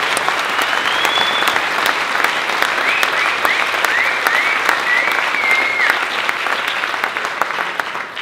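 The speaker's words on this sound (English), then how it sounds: "can we give all of our speakers a big round of applause?" An audience applauds for a group of speakers at a formal event, sustained dense clapping from many hands that stays steady for several seconds, with a few faint voices underneath.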